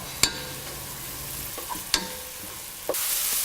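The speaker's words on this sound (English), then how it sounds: "Then add the ginger, garlic and saute well." Onions, ginger and garlic sauteing in a pan for chicken mapas, a low steady sizzle broken by a few sharp spatula scrapes and clinks against the pan.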